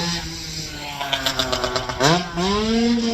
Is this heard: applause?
no